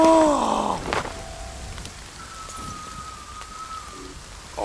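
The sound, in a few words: rain in video game The Forest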